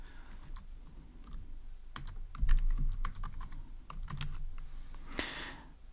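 Computer keyboard typing, a run of scattered, fairly quiet key clicks at close range with a brief louder burst near the end, no voices.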